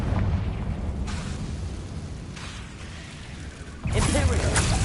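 A Confringo blasting spell from a Harry Potter video game bursts loudly near the end after a rumbling, busy stretch, with brief whooshing surges earlier.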